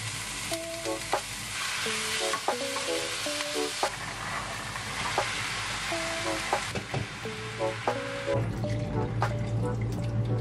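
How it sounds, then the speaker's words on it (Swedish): White beans fry in a pan with onion and garlic, a steady sizzle with occasional stirring and clinks of a utensil, close and fairly loud throughout, with no talk. "Och så har jag tänkt att jag ska steka det här i massa lök, vitlök"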